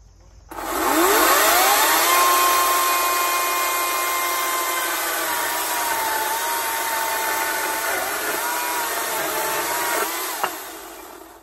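A power bandsaw rough-trims the excess length off a wooden stave, a steady loud whine and cutting drone running close and unbroken for about ten seconds before winding down, with no talk.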